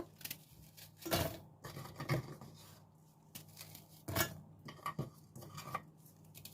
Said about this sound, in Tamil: இதுக்கு மலிவன் பிஸ்கெட்டை இப்படி பிச்சு பிச்சு